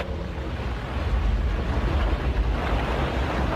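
Ocean waves and wind wash around a sailing ship in a Doraemon cartoon set in the Arabian Nights, a steady, full roar of surf that swells slightly louder after the first second, with no voices.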